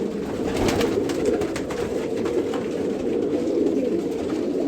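Pigeons in a breeding setup coo continuously, a dense low murmuring from many birds at once, steady and close, with occasional wing flutters.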